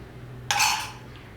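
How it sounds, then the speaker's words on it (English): A metal pan tipped out into another bowl while making a creamy mushroom omelette, one short bright clink and scrape lasting about half a second, close and fairly loud against quiet room hum. "So I'll just empty this into another bowl because we need the pan for the omelette."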